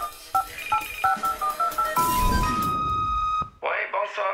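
A telephone answering machine plays a rapid series of beeps and dial tones, then a sustained tone and a short burst of sound, played before recorded viewer messages. A voice can be heard with the tones.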